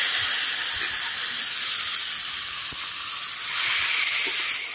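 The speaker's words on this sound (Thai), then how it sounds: "เดี๋ยวเราจะผัดเนื้อผัดเครื่องนะครับเราจะไม่ใส่น้ำมันนะครับ" Beef stir-fries in a hot pan without oil for a Thai kua nuea with pea eggplants. A loud, continuous sizzle and hiss holds steady throughout at close range.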